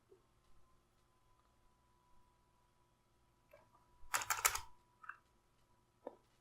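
A short burst of rapid typewriter-style keystrokes, quiet and close, followed by a few isolated clicks in an otherwise hushed background.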